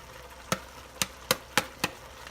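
A spoon knocks against the inner pot of an Instant Pot while au jus gravy is mixed into a beef roast, five sharp separate clacks over a quiet background.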